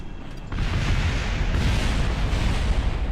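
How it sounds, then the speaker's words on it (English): A sudden loud burst of rumbling, crackling gunfire erupts in Kerbal Space Program after a brief quiet moment and continues as a dense, booming barrage. "As the gunfire will now take out the Forma."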